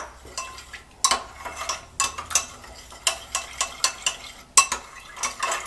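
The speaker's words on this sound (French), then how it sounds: "Je brasse comme ça." Pizza dough mixture with olive oil being stirred by hand in a bowl, a steady run of scraping, clinking strokes, some sharp and close, repeating in an uneven rhythm with no talking.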